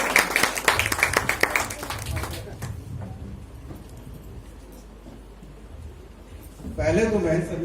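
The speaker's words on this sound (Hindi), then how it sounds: "जोरदार तालियां मिश्रा सर के लिए" Loud burst of clapping and applause from an audience at a Jabalpur civic gathering for a guest speaker, dense and continuous for about two seconds, then fading into murmuring room noise, with a second swell near the end.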